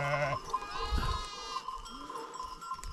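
Sheep and lambs bleat at a mountain farm, several overlapping calls, loud and close, one long wavering bleat followed by shorter ones against a steady outdoor background.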